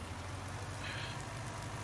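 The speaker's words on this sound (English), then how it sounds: "we'll head inside while it's raining" Steady rain falling in a Farming Simulator 19 field, a soft, even hiss of drops on surfaces, faint and continuous with a low background hum.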